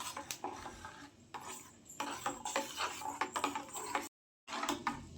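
A spoon stirs a lumpy milk powder mixture in a pan for a homemade sweet. The close, quiet scraping and clinking against the metal comes in an uneven rhythm, with one brief gap of silence and no talking.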